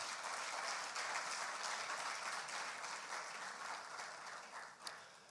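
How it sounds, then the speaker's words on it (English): A crowd at a formal event in Ghana gives a steady round of applause, dense and continuous clapping that fades slightly toward the end, with no speech over it. "Shall we do one more big round of applause?"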